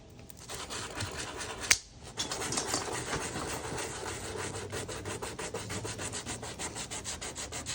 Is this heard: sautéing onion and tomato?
no